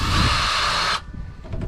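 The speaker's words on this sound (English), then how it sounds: "I'm gonna say it's not the drill dying" A power drill whirs steadily at close range for about a second, then cuts off abruptly, leaving faint room noise and small knocks.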